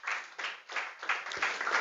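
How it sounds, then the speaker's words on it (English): At a school debate competition a small audience claps for a pupil receiving a certificate. The clapping is brief and uneven, coming in a few soft rhythmic swells, fairly quiet and heard on its own. "Do clap."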